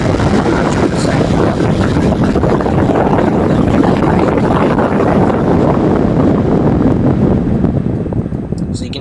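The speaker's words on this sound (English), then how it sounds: "this is probably the loudest fan I have" A 140mm computer case fan runs at 100% speed, giving a loud, steady, broadband whoosh like rushing air that holds unchanged for about nine seconds, with no other sound.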